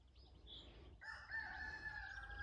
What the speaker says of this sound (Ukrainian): якийсь такий гарний голосистий півник там в когось співає